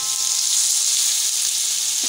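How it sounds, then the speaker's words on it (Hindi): Rosemary, oregano, crushed chili flakes and peppercorns fry in a pan, making a loud, even, hissing sizzle that holds steady for the whole brief moment, with no talking. "थोड़ा सा इसको फ्राई करेंगे।"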